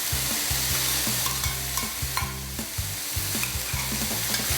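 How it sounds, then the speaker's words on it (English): Garlic, spring onion whites and carrots fry in hot oil in a pan for stir-fried udon with pork, giving a loud continuous sizzle broken by regular scraping stirs, with no talking. "Add in and fry the garlic, the white parts of the spring onion, together with the carrots."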